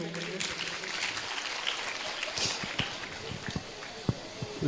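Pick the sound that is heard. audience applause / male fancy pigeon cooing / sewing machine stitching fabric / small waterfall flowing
audience applause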